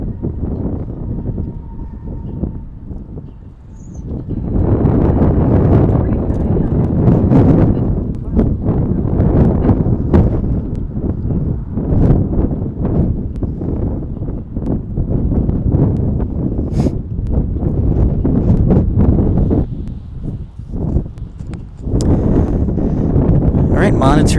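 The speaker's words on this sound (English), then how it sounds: "One thing you'll get used to here in Dallas is the wind doesn't stop." Steady wind roars across the microphone at DFW International Airport in Dallas, a loud, buffeting rush with gusty surges and brief lulls, under occasional talk.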